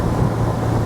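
An Axopar 22 Spyder boat cruising at around 46 to 47 km/h and roughly 3,400 RPM, giving a steady low engine drone with rushing wind and water noise, constant and close.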